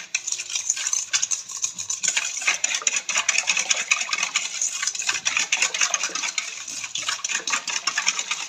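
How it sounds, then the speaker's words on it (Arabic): Sugar whisked by hand with milk, oil and orange blossom water in a bowl, a fast, continuous clattering and scraping of the whisk against the sides, close and steady throughout. "ضربوه مليح مليح مليح حتى يولي الحليب."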